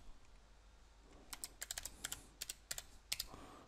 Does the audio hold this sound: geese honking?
no